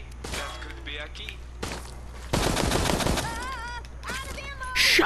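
Gunfire in the Resident Evil Resistance video game, a dense burst of shots in the middle beneath game sounds and voices, with softer thumps before and a loud burst at the end.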